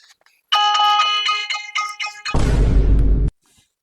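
Phone ringtone plays as a bright, chiming electronic melody in short repeated bursts, then cuts off abruptly into a loud, harsh noisy blast before silence.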